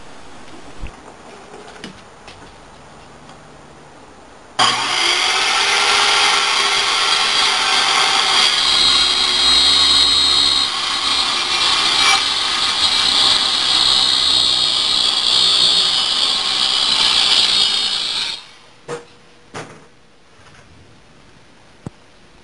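A power tool cuts a wooden workbench shelf to length with a loud, steady whine that starts abruptly, holds for about fourteen seconds and stops, followed by a few light knocks.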